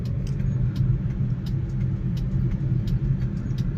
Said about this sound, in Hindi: मेरी कार अभी थर्ड गियर के अंदर चल रही है फिलहाल